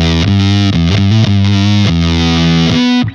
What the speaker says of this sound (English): the perfect sounding mid-rangey fuzz